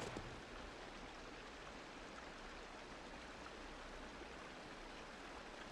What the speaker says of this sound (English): That must be the waterfall, right?